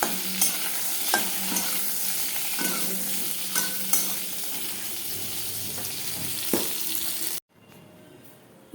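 Food fries in a pan and is stirred, with a continuous sizzle under scraping strokes and occasional sharp taps of the utensil. The sound is close and fairly soft, and it stops abruptly near the end.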